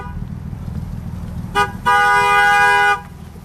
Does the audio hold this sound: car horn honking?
yes